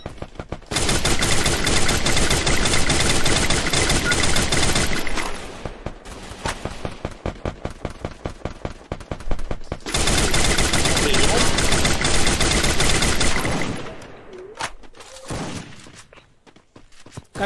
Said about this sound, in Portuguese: Olha os caras dando tiro aí, ó.